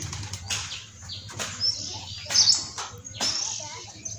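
Pigeons flapping their wings nearby on a rainy day in a village, several brief fluttering bursts spaced about a second apart, with faint chirps and a soft low hum underneath.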